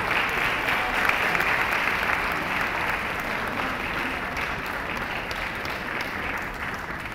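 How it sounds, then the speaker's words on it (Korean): Sustained applause from a festival audience welcoming a senior choir from China onto the stage at a choral competition, steady and dense clapping throughout with no voices rising above it. "큰 박수로 환영해 주시기"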